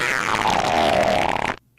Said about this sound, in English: I can hear his fart.